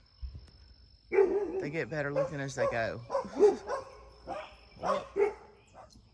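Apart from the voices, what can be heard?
dogs barking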